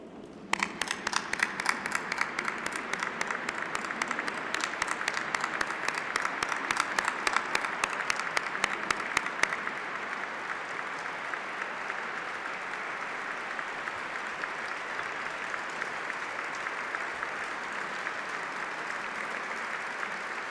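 A dinner audience applauds at length as Elise Jaffe is welcomed to the podium, dense clapping that begins crisply and settles into a sustained, even wash of applause from a large seated crowd.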